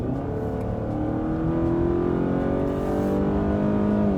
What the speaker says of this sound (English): The engine actually sounds nice.